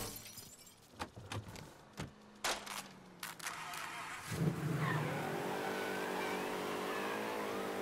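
Stolen police car in Mafia III: a few bumps and crashes, then an engine revs up and drones steadily with a faint tire squeal.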